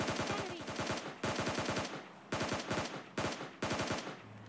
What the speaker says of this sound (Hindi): इस साइड से जंकयार्ड की तरफ से एक और फायरिंग की आवाज़ सुनाई देती है